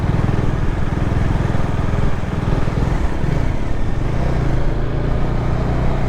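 Bajaj Dominar 400 big bike engine idling close by, a steady loud throbbing rumble with even rhythm throughout and no voices.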